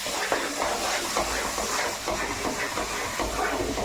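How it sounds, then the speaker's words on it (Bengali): Water poured into a hot pan of frying masala for chicken roast, a loud, steady hissing sizzle that fills the whole moment without pause, close and alone with no talk. "এই পাত্রটা ধুয়ে একটু জল দিয়ে দেব।"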